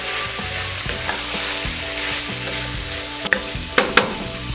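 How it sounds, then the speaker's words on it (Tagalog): Whole peppercorns stirred into paklay frying in a pan, a constant close sizzle with spoon scrapes and a few sharp clinks of the utensil against the pan near the end. "And then, haluin muna natin."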